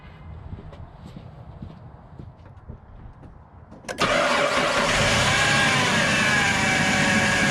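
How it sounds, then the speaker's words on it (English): A 2006 Jeep Grand Cherokee engine cranks briefly after some quiet shuffling, then catches and settles into a loud, steady idle that continues to the end. "Now I'll start the motor."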